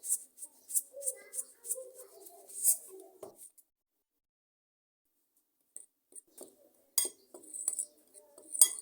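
Chicken is being mixed with white pepper, black pepper and salt in a bowl, and a utensil gives quick light clinks and scrapes. A short burst comes first, then a silent pause, then another irregular run of clinks.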